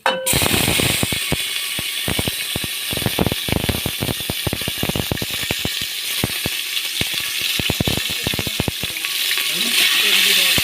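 Tomato and masala paste frying in oil for meat rice, a loud close sizzle under rapid repeated scraping and tapping of a ladle against the pan.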